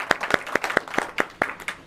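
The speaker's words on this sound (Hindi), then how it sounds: "ताली बजाकर उनका भी स्वागत किया जाए" An audience at a welcome reception for a community delegation claps in a brief burst, about eight sharp, evenly spaced claps standing out over a soft background.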